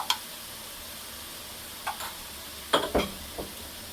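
Ginger-garlic paste frying in a pan for spicy fried rice with chicken, a soft steady hiss broken by a few sharp scraping stir strokes, close and fairly quiet, with no voices.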